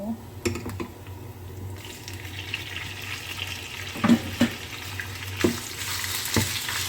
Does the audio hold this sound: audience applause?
no